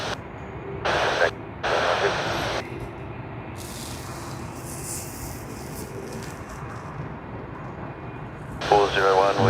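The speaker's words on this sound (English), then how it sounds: "One of the first heavy departures of the day, as you all know." Heavy jet airliner, an Emirates service to Dubai, departing Sydney Airport, heard as a broad, steady engine roar with a rumbling low end that holds for the whole stretch, with brief bursts of voice near the start and the end.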